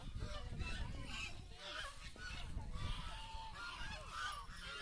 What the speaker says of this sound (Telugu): అమ్మో డక్స్ డక్స్ డక్స్.